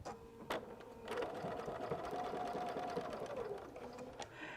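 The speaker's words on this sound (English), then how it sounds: "I'm going to sew in these 2 lines to make the 3 pockets." Sewing machine stitching two straight lines through a quilt to form three pockets, a steady close mechanical whir running for about three seconds between brief handling noises, with no talking.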